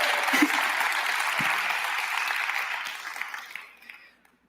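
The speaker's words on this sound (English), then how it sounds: "wait for applause" Steady audience applause at a talk event fills the room, holding loud and even for about three seconds before thinning and fading out, with a couple of faint whoops mixed in.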